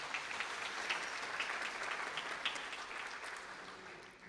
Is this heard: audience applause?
yes